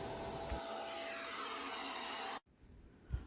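A Hoover CleanSlate Plus carpet cleaner runs with a steady loud whirring hum and hiss for over two seconds, then cuts off abruptly, leaving a quiet room with a soft knock near the end.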